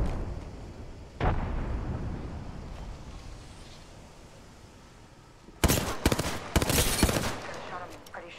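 Apex Legends combat with a frag grenade: a sharp blast early on trails into a rumbling decay under steady game noise, followed later by a loud cluster of rapid gunshots and impacts.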